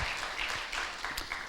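A church gathering applauds members on dish-washing duty, a short burst of scattered clapping from a modest crowd, fairly faint and without speech.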